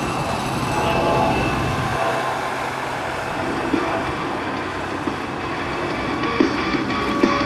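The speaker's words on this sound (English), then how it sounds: "Captain Green is now positioning the aircraft for a simulated strafe pass" An A-10 Thunderbolt II jet roars past at an airshow, its broad engine rumble and whine holding steady and loud across the clip, with faint crowd sounds underneath.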